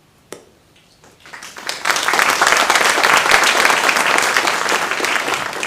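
Graduation commencement audience bursting into applause after a single early clap, swelling within a second into dense, sustained clapping from a large crowd that continues to the end.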